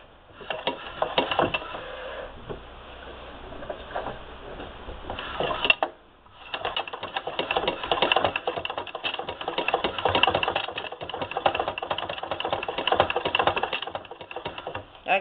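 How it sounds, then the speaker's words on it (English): An 1872 Wheeler & Wilson treadle sewing machine, freshly oiled, runs under foot power with a rapid rattling clatter, up close, pausing briefly partway before resuming its steady ticking rhythm. "With just a little bit of oiling, at least the machine is moving the way it's supposed to be moving."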